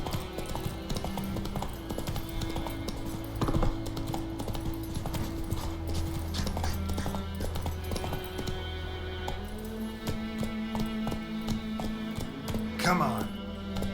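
In The Witcher 3 video game, the horse Roach clip-clops along at a steady trot, with rhythmic hoofbeats and light tack jingles under a voice and ambient game music.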